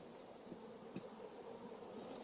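A dense, steady insect buzz fills the whole stretch, many bees droning together at close range around hive frames, with no voices.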